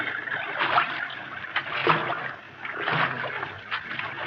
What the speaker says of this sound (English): we'll have to wade through the water